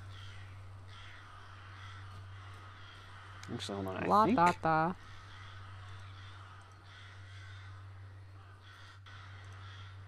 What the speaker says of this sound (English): These fucking birds. Sounds like a lot of them.